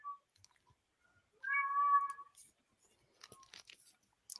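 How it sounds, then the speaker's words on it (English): A cat gives one clear drawn-out meow indoors in a house, followed by faint clicks and rustling, with no talk over it. "I hear you, kitty."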